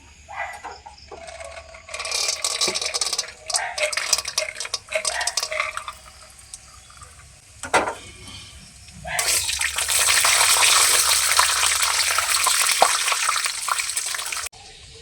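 Peanuts frying in oil in a pan: crackling, watery sizzle that comes and goes at first, then swells into a loud, steady hiss near the end, with no talking.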